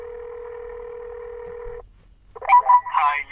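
A telephone tone sounds steadily for nearly two seconds, then breaks off into a short burst of dialing beeps and line noise.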